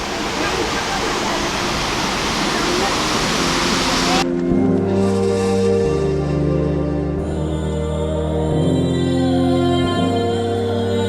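The Sitakund waterfall in Similipal National Park rushes as a loud, steady, broad roar for the first few seconds, then cuts away to a passage of music.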